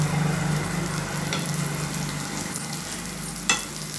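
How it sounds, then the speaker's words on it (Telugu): Eggplant fries in a pan with a steady low sizzle and occasional stirring scrapes and clinks, heard close and fairly quiet, with no talking. "ఇలా వేయించుకోవాలండి."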